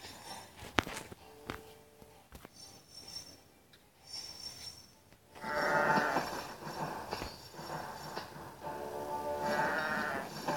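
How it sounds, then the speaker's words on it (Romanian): Sheep bleat in the Kingdom Rush tower-defense game, where wolves have been turned into sheep. Several layered bleats rise over steady game sounds and footstep-like thuds, growing louder and busier in the second half. "Ia uite mă cum vin oile"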